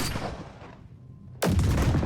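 A sniper rifle in the game Crunch Element fires a loud, sharp shot that rings out and fades over a second, then a second booming blast cracks abruptly and sustains.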